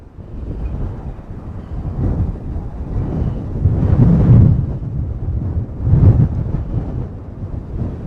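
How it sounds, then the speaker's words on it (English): Strong outdoor wind roars and buffets against the microphone in low, rumbling gusts that swell and fade, peaking twice, with no one speaking. "the wind is really kicking"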